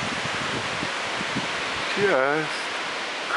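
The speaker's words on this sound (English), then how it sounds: "It is windy as all get out today on the mountain." Strong wind on a mountain roars as a steady broadband rush, loud and close to the microphone, with a brief spoken word partway through.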